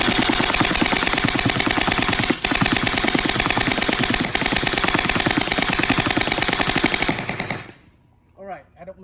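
An MCS Boxmag fires on full auto in a loud, continuous rapid burst for about eight seconds, then stops abruptly, leaving a few faint chirps and a brief rustle.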